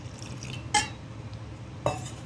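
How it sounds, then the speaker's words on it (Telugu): A spoon works through gunta punugulu batter of salt, cumin and water in a bowl, giving two short scraping clinks against the dish over a quiet room. "అన్నీ కలిసేలా కలుపుకుందాం"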